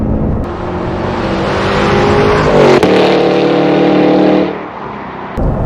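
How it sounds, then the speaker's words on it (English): A 2022 Cadillac Escalade V's supercharged V8 accelerating hard, loud rising exhaust roar from inside the cabin with a couple of sharp cracks and pops, easing off toward the end. "Hear that cracking out the back?"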